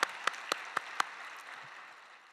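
A church congregation at a Sunday service applauding, heard as a diffuse roomful of clapping with a handful of louder, evenly spaced nearby claps that fade away after about a second.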